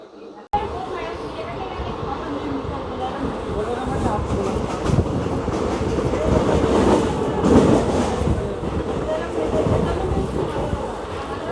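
Interior of a MEMU train running between Secunderabad and Siddipet, a steady loud rattling rumble of the carriage with rhythmic wheel clatter swelling midway, someone talking over it throughout.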